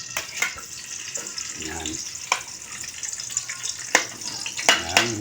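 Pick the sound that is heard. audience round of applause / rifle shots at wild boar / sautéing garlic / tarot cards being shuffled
sautéing garlic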